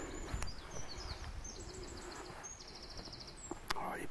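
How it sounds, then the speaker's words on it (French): Small songbirds chirp and trill in quick repeated phrases among the trees, faint and fairly distant, over a steady background hum of town noise with occasional rustles and clicks. "Oh, les petits oiseaux, j'adore ça moi."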